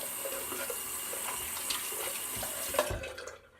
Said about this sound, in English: Hate to put that down the sink, but that's where it went.